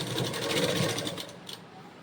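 Sewing machine stitching a straight seam along fabric piping, a steady fast whirring hum at close range that eases off toward the end.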